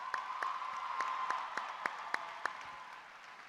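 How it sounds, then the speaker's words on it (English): Applause at the 2017 Oregon FFA State Convention following the national anthem, a soft, distant wash of clapping with a few sharper isolated claps standing out, steady and fading gently toward the end. "Let's all give Cameron a huge round of applause."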